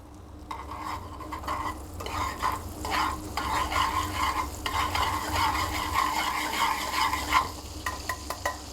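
Butter melting into sugar in a pan while cooking apples for flambéed foie gras, giving a steady soft sizzle with repeated stirring and scraping strokes that run throughout, fairly close and with no talking.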